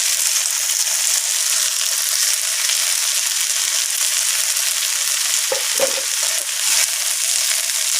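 Tomatoes frying with chicken in a pan, a constant bright sizzle with a brief stirring scrape near the end, no voices.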